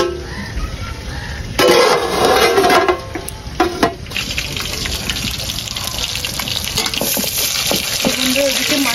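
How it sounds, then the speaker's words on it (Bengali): Fish curry bubbling in a pot, steady watery sizzle and simmer close by with a few louder stirring or splashing bursts near the start. "এদিকে মাছের ঝোল হচ্ছে"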